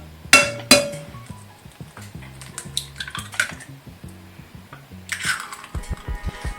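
Eggs are cracked against a bowl and their yolks separated while a croissant bread pudding is made. Sharp clinks and taps come in separate bursts, with lighter clatter between them and a quick run of knocks at the end.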